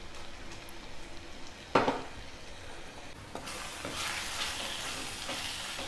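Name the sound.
green peas added to cauliflower frying and stirred in pan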